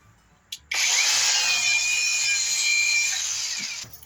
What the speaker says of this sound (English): I have polishing pads, wool polishing pads, and a cordless angle grinder.